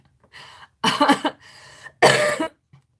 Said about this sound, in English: now I'm coughing shit up